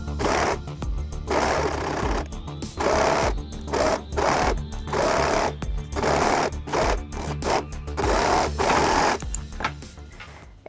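A sewing machine overlocks jersey fabric for a pair of trousers, running in loud close bursts of rapid stitching separated by brief pauses, with no talking.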